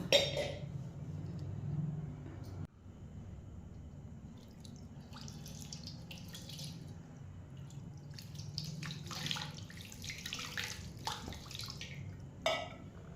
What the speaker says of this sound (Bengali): এবারে আমি একটু পরিষ্কার জল দিয়ে স্নান করিয়ে নেব